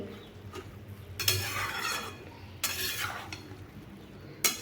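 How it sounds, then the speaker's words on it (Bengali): Chopped bottle gourd frying with salt in a pan, a steady soft sizzle broken by a few sharp stirring scrapes and clinks of the spatula against the metal. "নুন দিয়ে এভাবে একটু ভাজতেই এবার লাউ তো জল বেরোবে"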